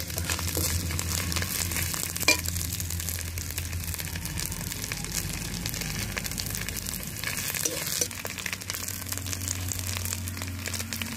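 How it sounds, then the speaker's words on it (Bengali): Ginger paste for chicken korma fries in a pan and is stirred, producing a continuous sizzle with rustling, scraping stirs on top that sit close and fairly loud the whole way through. "আদা বাটাটা দিয়ে বেশ সুন্দর করে নাড়া দেবো,"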